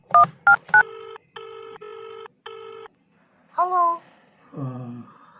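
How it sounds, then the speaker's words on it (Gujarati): A push-button telephone being dialed gives three short, clear beeps and then four longer steady tones in a quick sequence. A voice follows briefly afterward. "હવે પૂજાને જ ફોન લાગે"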